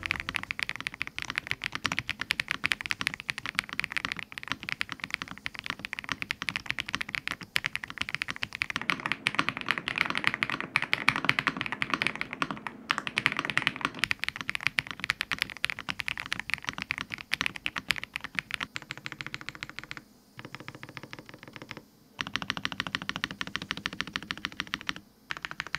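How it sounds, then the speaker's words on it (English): Typing on an AJAZZ AK820 budget mechanical keyboard, a dense continuous stream of close clacky keystrokes with brief pauses near the end and no talk. "So here's how it sounds."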